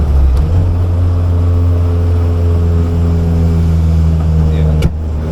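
A Honda Civic EK6 under rebuild after a crash pulls hard through the gears, its engine droning loud and steady close by, with people talking over it and a brief sharp knock near the end.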